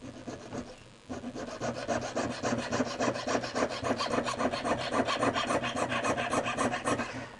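A fine saw cuts a thin half-millimetre mokume gane metal sheet, a fast, steady rasping of short strokes, close and fairly quiet, starting after a brief pause.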